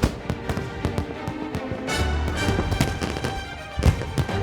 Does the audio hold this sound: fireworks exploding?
yes